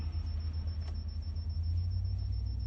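A loud car rumbles past on a street at night, a steady low engine drone with a faint high whine running over it, fairly close and heard without any talk.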